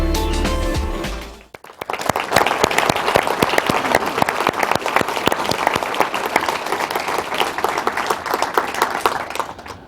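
Audience applause swells after a short musical ending and continues as dense, steady clapping from a sizeable crowd, loud and sustained to the end.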